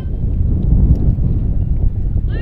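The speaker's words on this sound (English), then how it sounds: "Windy day here in Daytona Beach on the Embry-Riddle campus." Wind buffets the microphone in a steady low rumble that roars on without pause, with no clear voices or other sounds, outdoors on a college campus in Daytona Beach during a women's lacrosse game.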